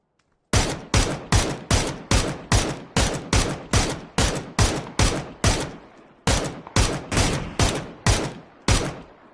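Rapid bursts of P90 submachine gun fire in the PUBG video game, a dense string of loud, evenly spaced shots running nearly continuously with one short break, close and alone.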